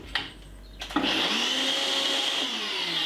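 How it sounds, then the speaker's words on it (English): A countertop blender whirs up to speed blending jerk chicken seasoning, after a couple of brief clicks and knocks, then holds a loud, steady high whine to the end. "just blend it for about 3 seconds or 4 seconds"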